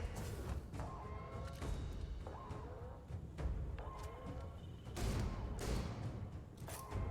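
Gunfire in the space game Starfield, heard aboard a ship being abandoned: several separate, fairly faint shots crack out at irregular intervals over a low background rumble.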